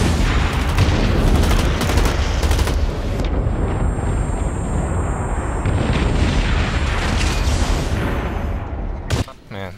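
Grenade blasts in the shooter Blacklight Retribution during a King of the Hill match, loud repeated explosions mixed with rapid gunfire in a dense firefight before the din eases near the end.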